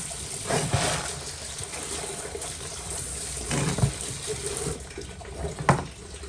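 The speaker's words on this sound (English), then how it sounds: "Some air in my hose." Water running from a garden hose near a rock tumbling setup, spitting and gurgling in irregular bursts with sharper splutters, all fairly close and moderately loud, with no voices.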